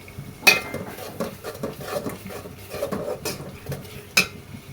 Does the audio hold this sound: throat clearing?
no